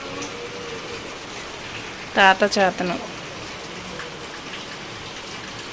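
Steady rain patters down without a break, and a voice speaks briefly in the middle over the even wash of falling drops.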